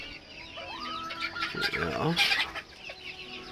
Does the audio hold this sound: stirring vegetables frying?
no